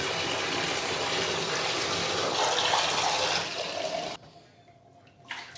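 Water running into a bathtub during cleaning, a steady rushing gush that cuts off sharply near the end, leaving a quiet room with a brief splash.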